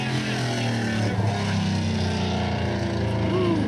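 A loud, steady engine roar runs throughout, deep and droning with a rising whine near the end, like a powerful truck revving hard.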